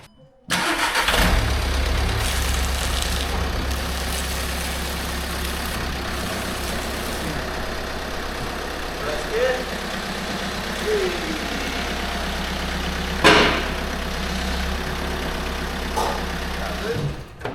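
A car engine running right after a clutch replacement, a steady close mechanical drone with a low rumble, starting abruptly and holding throughout with a couple of brief clunks and knocks along the way.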